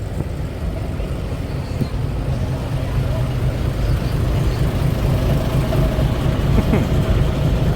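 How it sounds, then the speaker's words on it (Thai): An Isuzu 6B turbo truck engine on 8.25-20 tires idles quietly at a temple fair, a steady low rumble beneath constant outdoor background noise. "คันนี้เสียงเครื่องเงียบกิ๊บเลยเว้ยเสียงเดินเบา"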